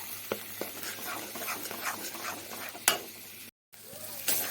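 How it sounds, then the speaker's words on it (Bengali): Spice paste dry-fries in a pan, stirred with soft scrapes over a faint crackling sizzle, a few sharper spoon knocks, and a brief silent gap near the end. "নাড়তে নাড়তে বাটাটা বেশ ভালো করে শুকিয়ে এসছে"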